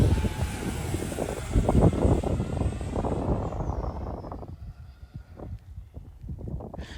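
A small RC jet with a 50mm electric ducted fan screams past on a speed pass, its high whine sweeping downward as it rushes by, while clattering ground noise fluctuates beneath.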